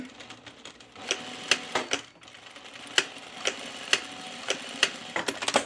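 A sewing machine secures overlapped fabric on a halter top with short, sharp ticking stitches, a series of distinct clicks at uneven intervals close by with no talking.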